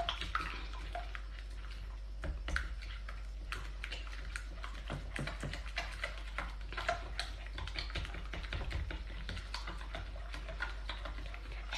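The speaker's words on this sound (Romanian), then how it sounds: "Și acum o să amestecăm totul cu un tel. Și o să punem și oul peste și amestecăm așa bine." An egg is whisked into a honey dough mixture with a hand whisk, giving a steady run of quick, light clicking and tapping strokes against the bowl, fairly close and continuous, with no talking.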